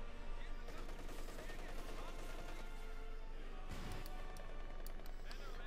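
MG34 machine gun fire in the game Company of Heroes 2, heard as continuous rattling bursts and scattered gunshots within a dense, steady battle din, with a louder crash near the end.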